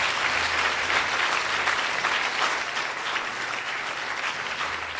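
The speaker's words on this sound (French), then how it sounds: "est-ce que vous pourrez les applaudir?" A conference audience gives students a steady, even round of applause, a dense wash of many hands clapping with no pauses.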